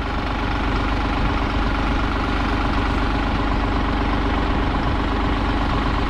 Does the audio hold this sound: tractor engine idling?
yes